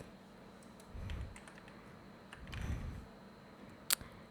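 Text being typed on a computer keyboard: a few sparse, quiet clicks and soft key taps, spaced irregularly against a faint room hush.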